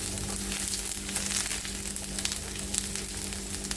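Garlic and ginger paste sautéing in a spoonful of oil over a very low gas flame, giving an even, continuous soft hiss that holds steady throughout, close and fairly quiet with no voices.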